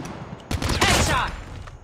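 Gunfire in Call of Duty: Mobile during a night-mode match: a short, dense burst of rapid shots that swells halfway through and fades into a muffled tail over game noise.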